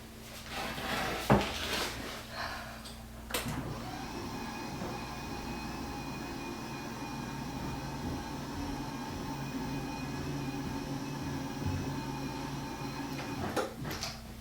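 An Uplift standing desk lowering to sitting height, a clunk, then a steady electric motor hum running for about ten seconds at moderate volume before another clunk as it stops.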